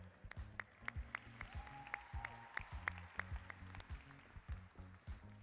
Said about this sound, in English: Let's get one more round of applause to all of our winners